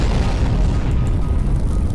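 Explosions in Garry's Mod, a dense, loud rumbling boom that rolls on continuously across the whole stretch with no voices over it.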